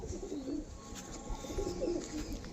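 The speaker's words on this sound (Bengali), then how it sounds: "এটা এলাহাবাদি চিনিয়া পায়রা দেখে নিন।" Allahabadi chiniya pigeons coo softly and repeatedly at close range in two short bursts, with steady low background noise and no talk.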